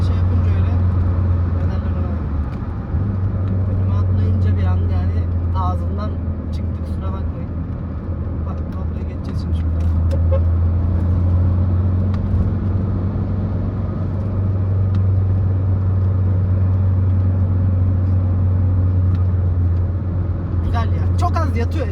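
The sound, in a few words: Fiat Palio 2004 1.3 Multijet car accelerating at full throttle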